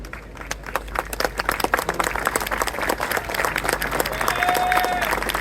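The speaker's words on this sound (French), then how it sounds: "Allez, on applaudit." A crowd at an outdoor car gathering applauds an arriving car with dense, continuous clapping that builds slightly in loudness, and a brief high whistle-like tone rises near the end.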